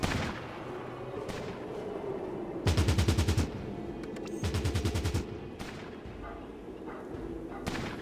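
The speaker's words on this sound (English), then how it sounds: "Shoot that guy, please." Gunfire from the video game Fallout Tactics: Brotherhood of Steel, two rapid automatic bursts of about eight shots each, rising over a low ambient game hum with a few softer thuds.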